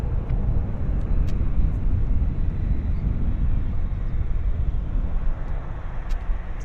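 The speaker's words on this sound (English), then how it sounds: "Global Express, or whatever they call themselves, Global departing." Global Express business jet departing Vancouver Airport, a steady broad roar of engine noise holding constant throughout, loud and continuous with no voices.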